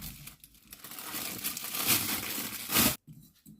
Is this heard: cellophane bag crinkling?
yes